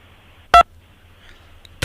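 A single short telephone keypad tone for the digit 2, pressed on a mobile phone in answer to an automated prize call, sharp and brief against near silence, with a faint second beep starting at the end.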